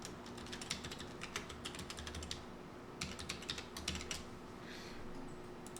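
Login details are typed on a computer keyboard in two quick bursts of close, crisp key clicks separated by a brief pause, with no talking.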